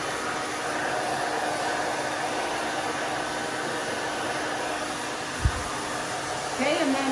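Steady close whoosh of a hair dryer blowing through short gray hair in a salon, constant airflow noise throughout with one brief thump near the end.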